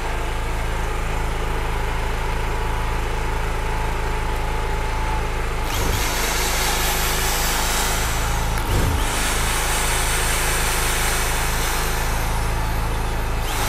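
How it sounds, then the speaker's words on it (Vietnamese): An electric drill is tested at home, whining steadily and loudly the whole time, close by, with a couple of brief dips where it slows or is re-triggered. "À thử đến máy khoan luôn."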